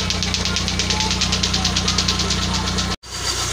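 A Kia Timor engine idles steadily after being warmed up for about thirty minutes, a continuous loud mechanical hum with a rapid rhythmic ticking, broken by a brief near-silent dropout just before the running sound resumes.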